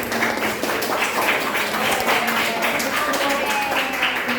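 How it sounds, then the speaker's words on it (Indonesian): Students in a classroom clap for everyone, a steady, close round of applause throughout, with some voices and tones mixed in beneath it. "Beri tepuk tangan untuk kita semua dong."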